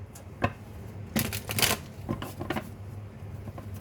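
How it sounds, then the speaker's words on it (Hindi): Tarot cards being shuffled by hand, a few quick riffling bursts and soft card slaps close by, with faint background noise and no talking. "यहाँ से भी कार्ड्स लेंगे तो इनको भी शफल कर लेते हैं।"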